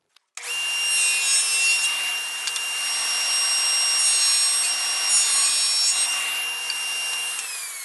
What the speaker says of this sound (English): let's go over to the table saw to do that